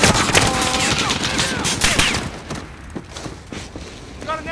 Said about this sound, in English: Got an MG nest on that second deck.